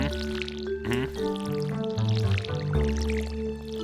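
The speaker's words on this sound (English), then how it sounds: "Watering can." Watering can pouring over parsnip crops in the farming game Stardew Valley, a short splashing, dripping liquid effect heard against steady tonal background music.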